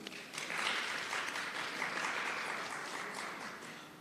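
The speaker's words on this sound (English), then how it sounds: "Let us give them a round of applause." An audience at a national health research conference applauds in a sustained, moderately distant round of clapping. It swells quickly and then holds steady before tapering slightly.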